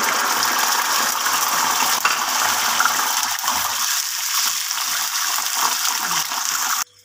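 Plain yogurt, about a cup, poured into hot cooking oil for a green-chili curry: a steady close sizzling, gushing hiss lasting several seconds before cutting off abruptly, with no talking.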